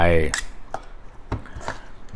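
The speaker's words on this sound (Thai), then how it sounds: "นี่ช้อนอย่างเงี้ยคลุกเข้าไป" A metal spoon mixes rice with red chili paste (nam prik ta daeng) in a dish, giving a few sparse clinks and scrapes that follow a brief burst of voice at the start.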